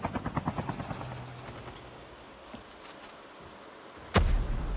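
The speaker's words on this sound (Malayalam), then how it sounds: "ഇത്ര ഓപ്പണിലാണ് ഹെലികോപ്റ്റർ കൊണ്ടിടുന്നത്." A helicopter's rotor beats thud rhythmically in the video game Call of Duty Mobile battle royale, then fade into a low rumble before a sudden loud explosive blast near the end.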